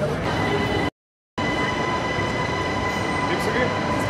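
A moving passenger train heard from inside gives a steady rumbling roar with faint wheel noise, broken by a brief total dropout to silence near the start.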